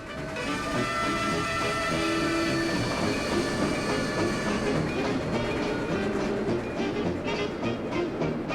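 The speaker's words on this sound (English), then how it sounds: "Now, on her way back, the train crosses Paradise Lane." A model Reading camelback steam locomotive, RDG/SRC 1187, rolls past with its train, giving a loud continuous clatter of wheels over rail joints, a steady hiss and rhythmic clicking that slowly thins as it moves on.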